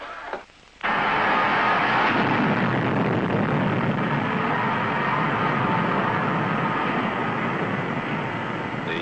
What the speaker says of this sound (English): Firing rockets in 2 seconds.